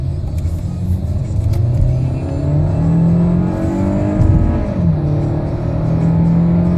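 A Hyundai Sonata accelerates hard from 0 to 60, its engine rising in pitch in sweeping climbs that break at each gear change, heard from inside the car over a steady road rumble.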